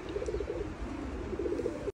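Budapest breed pigeons coo in soft, repeated rolling bursts, close by and steady, with two clear runs of calls and no talking.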